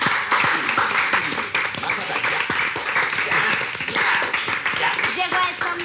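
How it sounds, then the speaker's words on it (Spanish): An office celebration in a telenovela scene is filled with loud, sustained clapping from a group of people, a dense stream of claps that lasts the whole time. "Marce, tú me dijiste que entrara cuando escuchara aplausos."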